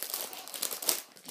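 Thin plastic packaging around a squishy toy crinkles up close in a quick, continuous burst of crackly rustling, with no voice over it.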